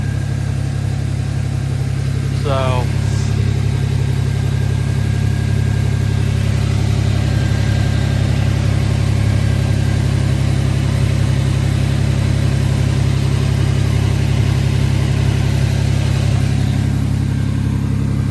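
Old GMC truck engine idling high, a loud, steady mid-to-low drone held throughout, with a brief faint squeak early on and a single short spoken word.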